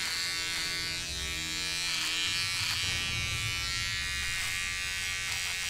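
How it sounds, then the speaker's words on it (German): An electric razor buzzes steadily and loudly close up for the whole stretch, a dense continuous hum with slight shifts in pitch as it moves, with no talking over it. "Soll ich dir mal einen richtigen Rasierer zeigen?"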